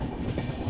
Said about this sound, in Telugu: ఈ ట్రైన్ సౌండ్